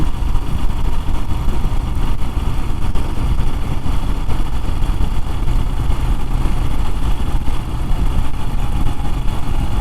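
A Moto Guzzi V7III motorcycle engine under way on an open road, a loud, continuous close-up rumble mixed with rushing wind noise, holding steady throughout.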